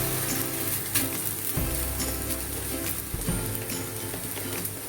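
A stuffed paratha fries in ghee on a pan, giving a steady, close, even sizzle throughout with a few soft knocks and scrapes, and no talking.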